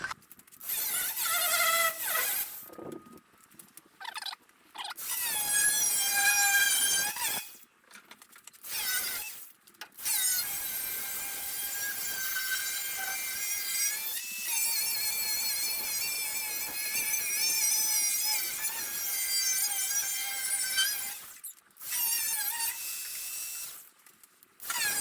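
A high-pitched power tool cuts across spot-welded joins on a 1955 VW panel van, whining in long passes that rise and fall slightly in pitch and break off into short pauses, loud and close.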